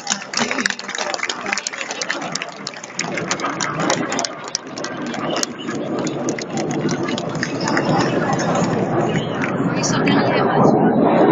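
Jet aircraft of the Patrouille de France roar overhead at an air show in the sky above Saudrune, a continuous loud engine rumble that grows slightly stronger, with a commentator talking over it.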